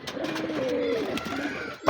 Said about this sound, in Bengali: তো সবগুলো কবুতর ডাকা দিয়ে আছে আর সুন্দরভাবে মিট আপ করতেছে